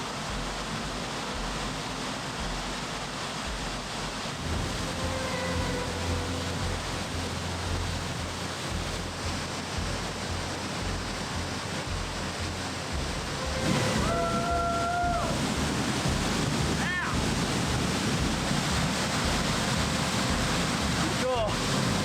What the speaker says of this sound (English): Yeah, this waterfall is worth a little side trail.